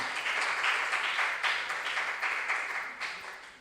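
Audience applause at a regional school science and maths quiz in the Ashanti Region, a steady, dense clapping that fills the room for several seconds before tapering off slightly at the end.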